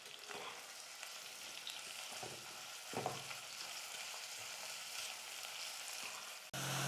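Sliced onions and green chillies fry in a pan for chicken biryani, a steady close hiss of sizzling with occasional stirring scrapes and a sudden louder rush near the end.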